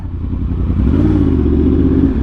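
Yamaha R1M sport bike fitted with an SC Project exhaust, revving loud and close with a rough, throaty roar that climbs steadily over a couple of seconds, no voices over it.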